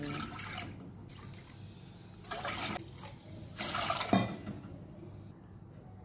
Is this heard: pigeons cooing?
no